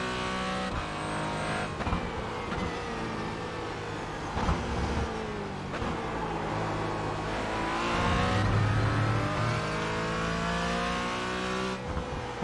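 Porsche race car in iRacing, its engine revving up and down through gear changes at a steady moderate level, with a faint tire squeal and no talking.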